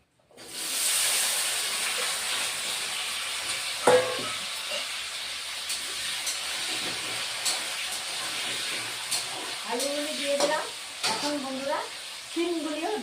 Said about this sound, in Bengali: এখন আলুগুলি আমি দিয়ে দিচ্ছি